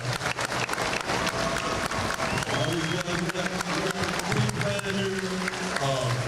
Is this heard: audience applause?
yes